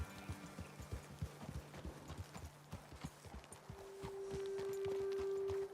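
Horses' hooves clip-clop at a steady walking pace, close by and fairly quiet, in the video game Red Dead Redemption 2, before a sustained droning tone rises over the end.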